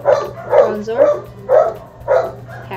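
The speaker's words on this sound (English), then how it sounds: "The dog keeps barking." A dog indoors barks repeatedly in a steady series of five or so sharp, fairly close barks over a low constant hum while cards are unboxed.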